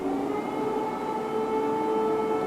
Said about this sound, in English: Thousands of residents took shelter underground as sirens blared through Kyiv overnight